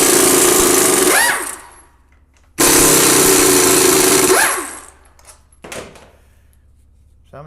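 Compact Mac Tools impact wrench running bolts on a GM 246 transfer case, two sustained buzzing bursts of about two seconds each with pauses between, close and loud, followed by a brief clatter.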